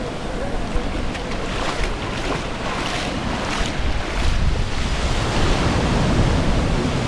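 Ocean waves wash continuously onto a white sand beach in Portland, Jamaica, a loud, broad roar of surf blended with wind noise, growing slightly stronger toward the end.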